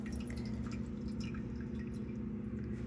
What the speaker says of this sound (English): I have a tall, strong person pouring the liquid into the pot for me.